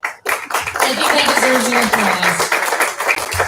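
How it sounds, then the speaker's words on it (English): Audience clapping and applause at a book launch event, a dense steady patter of hands through most of the clip, with someone speaking over it. "deserves an applause."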